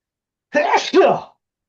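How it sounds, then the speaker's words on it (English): A single loud, close sneeze in two quick bursts, a sharp intake followed by the explosive release, with silence around it. "I think I'm gonna sneeze again."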